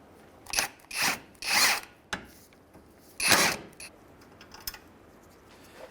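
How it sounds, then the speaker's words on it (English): A power tool removing the 19 mm castle nut on the ball joint of a 2003-2011 Honda Element during a CV axle replacement: a few short whirring bursts of an impact gun or drill, close, separated by quiet pauses. "we're going to take our 19 millimeter back off that castle nut"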